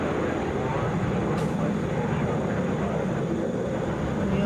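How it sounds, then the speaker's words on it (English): A Delta Airbus A321 airliner landing at Atlanta's international airport, a loud steady broadband roar of jet engines rumbling close and continuous throughout with no break. "Delta Flight 901 coming in from Cleveland, Airbus"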